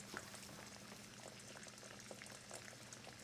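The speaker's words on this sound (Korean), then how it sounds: "물 끓는다 라면 넣어야겠소." Water bubbles at a steady rolling boil in a pot of water for ramen, a faint, continuous simmering hiss with soft pops.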